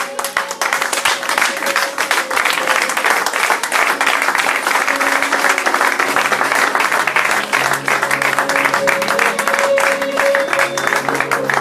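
A church congregation at a one-year anniversary service applauds and cheers, a loud, dense, steady wall of clapping that holds for the whole stretch.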